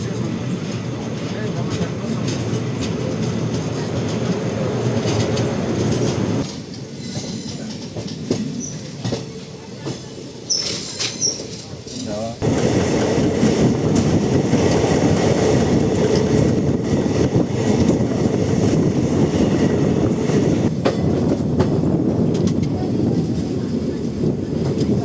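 A Velankanni–Chennai passenger train rumbles along steadily with rhythmic wheel clatter and wind noise; the roar briefly softens midway before surging back louder.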